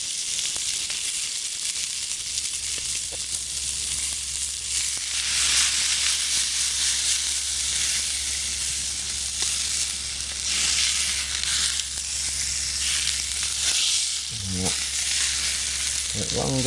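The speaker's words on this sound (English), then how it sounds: "Sizzle." Steak sizzling and frying in a pan at a wild camp, a steady broadband hiss running continuously at close range with small crackles and a few brief pops near the end.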